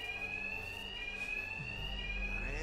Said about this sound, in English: these thugs can't hear a thing over the alarms